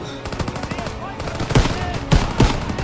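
Rapid gunfire in Call of Duty: World War II, with bursts of shots and a few loud, close cracks near the end, all over a busy battlefield din.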